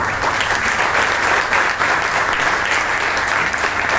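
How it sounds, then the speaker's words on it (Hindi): Loud, dense applause from an audience at a leadership development program, a continuous close wall of clapping sustained at an even level throughout with no speech. "जोरदार तालियां बजाओ इनके लिए"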